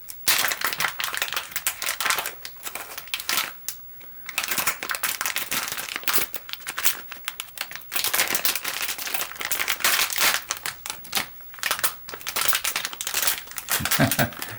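A plastic bag crinkles loudly and continuously close by as it is worked open at a model ship build, with brief pauses between bursts of crackling.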